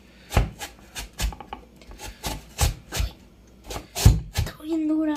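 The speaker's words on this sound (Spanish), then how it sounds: "ahora toca rallarla" A peeled raw potato is rubbed against a kitchen grater in a run of rough, rasping strokes, each stroke loud and close and roughly evenly spaced, with a brief voice and faint tone near the end.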